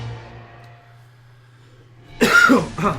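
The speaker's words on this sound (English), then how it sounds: "I have a slight cough here" A quiet low hum fades into silence, then a loud, close cough erupts in two harsh bursts.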